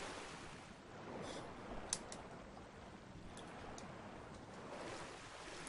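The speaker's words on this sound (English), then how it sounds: "So now we just got to go underneath the waterfall" Rushing waterfall in the Tomb Raider Anniversary video game, heard as a steady broadband roar of falling water with a few brief splashy accents, continuous and fairly close throughout.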